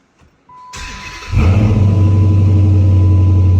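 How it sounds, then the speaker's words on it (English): A Dodge Challenger SRT8 engine cranks and catches on a cold start, then settles into a loud, steady, low idle rumble. "Do a little cold start."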